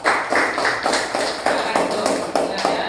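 Classroom applause for a student group in an Indonesian teacher-training lesson, a steady patter of hand claps with roughly even pulses lasting the whole stretch, fairly close and moderately loud.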